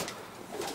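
Racing pigeons in a breeder's loft give soft, faint cooing that blends into a quiet, steady background with no talk.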